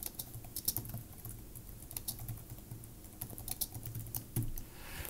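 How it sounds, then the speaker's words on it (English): Typing on a computer keyboard, a steady patter of light key clicks with a few louder taps, fairly close and clear, heard alone without speech. "I make a new alinea and start typing again."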